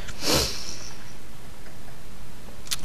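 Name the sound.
person sniffing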